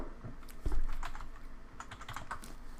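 Quick irregular clicks and taps of fingers typing on a computer keyboard, close and moderately loud over low room noise, with one heavier thump partway through.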